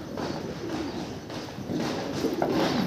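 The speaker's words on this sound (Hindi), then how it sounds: "ये कबूतर है जो बैठे हुए हैं सारे" Pigeons cooing together at a loft where a pigeon keeper's birds sit, a steady soft murmur of overlapping coos with a few louder calls rising near the end.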